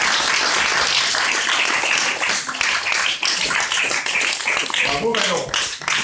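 An audience applauds Manon during a magic show at the wizard school of the Arthurian centre at Château de Comper, dense clapping filling the whole span while voices talk and call out over it.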